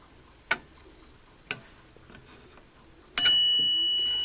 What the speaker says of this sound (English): That's the centre bell